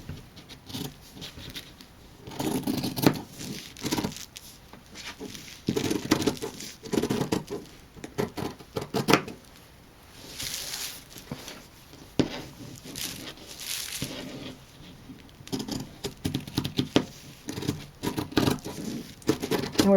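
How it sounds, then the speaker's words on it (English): Scissors snip through fabric as pattern pieces for a bag are cut out, producing clustered bursts of crisp cutting and rustling material, close and fairly loud, with brief pauses between strokes. "Okay, so now we're going to cut around."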